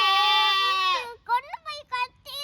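A young goat kid bleats close by: one long, loud, wavering cry followed by several shorter broken bleats, alone without talk.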